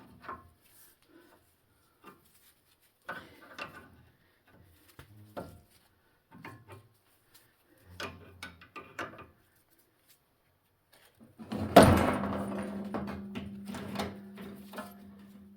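A puller works on the CV axle of a 2006 Toyota Tundra, giving scattered light metallic clicks and creaks, then one sharp, loud pop as the joint breaks free, followed by a short ringing rattle.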